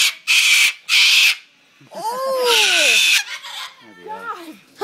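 A pet bird vocalizes, mimicking human speech with squawks and warbling speech-like calls in short bursts between harsh noisy screeches, while people nearby exclaim briefly.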